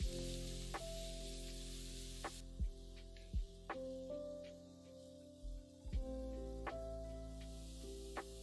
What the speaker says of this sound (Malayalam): സവാള നന്നായിട്ട് വഴറ്റുക